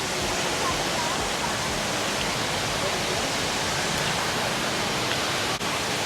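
Water plunges steadily down the indoor Rain Vortex waterfall at Jewel, Changi Airport in Singapore, a dense, continuous broadband roar that fills the space evenly from start to finish with no breaks.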